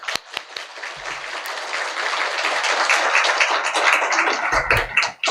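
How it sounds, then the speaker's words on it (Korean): Congregation applause in a church welcoming the pastor to the pulpit during a special autumn dawn prayer service, a dense sustained round of clapping that swells, holds steady, then tapers off near the end. "하나님께 영광의 박수 올려드리며"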